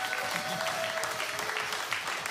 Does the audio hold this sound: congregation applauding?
yes